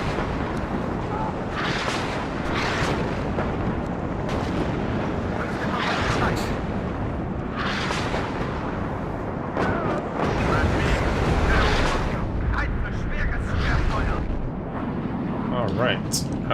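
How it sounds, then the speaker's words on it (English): Rocket barrages in the Cold War strategy game WARNO boom and rumble in repeated heavy bursts, blending into a continuous roar while a voice talks over the battle. "Big old rockets."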